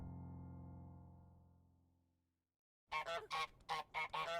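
Geese honking from a video game trailer for a free two-player multiplayer update: a run of loud, close, nasal honks in quick bursts after a fading musical tone and a brief pause.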